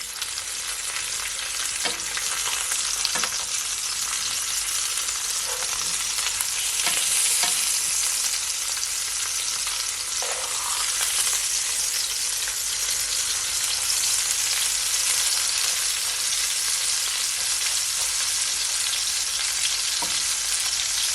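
Pork chops fry in a pan with a steady, loud, broadband sizzle that runs unbroken throughout, with occasional soft clicks and pops and no one talking.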